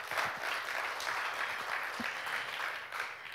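Steady church congregation applause fills the space, a dense patter of many hands clapping, moderately distant and even throughout.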